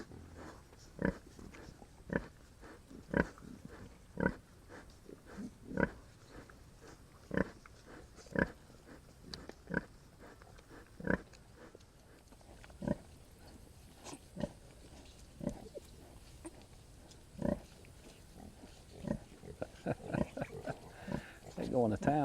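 Hereford feeder pigs and their mother sow grunt and call in a pen, with short oinks repeating roughly every second, faint and steady, becoming busier and more scattered toward the end.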